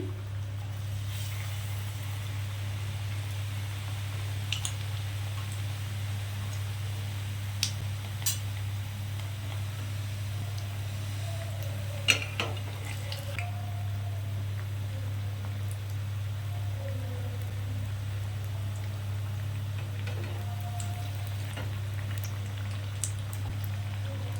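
Potato fritters (aloo chop) fry in hot oil in a small wok, a steady low sizzle with scattered pops and crackles, no voices.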